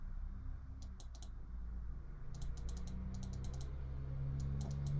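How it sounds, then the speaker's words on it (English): Clicks from a computer mouse being right-clicked to buy items in a browser-based MMORPG, sounding as short close bursts of two or three clicks spread across the stretch over a steady low background hum, with no talking. "yeah, I gotta right click these."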